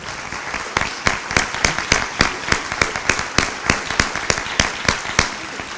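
An audience at a college athletics Hall of Fame induction ceremony claps for alumni board members, with loud, evenly paced claps that keep a steady rhythm for the whole stretch.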